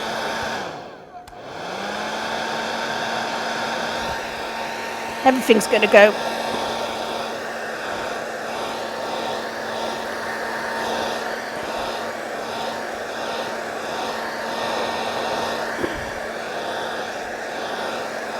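A hair dryer blows in a continuous, steady whoosh with a constant whine, running for a long stretch while drying masking fluid on watercolour paper; a few clicks and a brief voice occur partway through.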